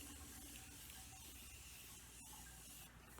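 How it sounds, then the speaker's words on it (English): Morphe continuous setting spray mists out in a steady, faint hiss for a few seconds, with a brief sharper burst near the end and no talking. "then we bought the Morphe continuous spray"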